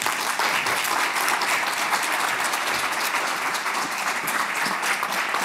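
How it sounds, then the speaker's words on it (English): Audience at an anti-racism event in Oxford giving loud, continuous applause while gifts are handed out, an even wash of many hands clapping with no talk. "I'm going to give those now while you all do massive applause"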